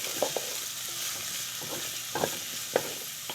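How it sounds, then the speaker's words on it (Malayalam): Onion, ginger and green chili sauté in a pan with a soft, steady hiss, punctuated by several short scraping strokes of a spoon stirring at close range. "എന്നിട്ട് നല്ലപോലെ വഴറ്റുക."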